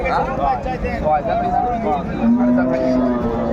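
Dairy cows and calves low nearby at a livestock market in Dinajpur, Bangladesh, in a few drawn-out moos, one deep call held longer near the end, under people talking.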